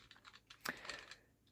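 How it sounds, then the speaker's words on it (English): Typing on a Logitech K375s membrane keyboard with scissor switches, a quick run of soft, muted key clicks with one sharper tap in the middle, close and quiet with no talking. "although it is a membrane keyboard, it uses scissor switch"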